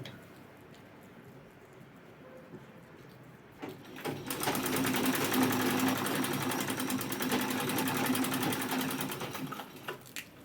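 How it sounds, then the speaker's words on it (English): A sewing machine stitches a zipper in without a zipper foot. After a few quiet seconds it starts up and runs as a steady, rapid, fairly loud whir until it eases off near the end. "It's actually the fastest way to sew your zippers."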